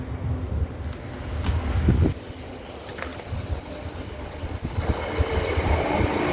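A train passes on the railway near Harrogate, likely a Class 170 unit, with a rumbling roll, wheel squeal and clicking over the rails, loud and close throughout and swelling briefly partway through.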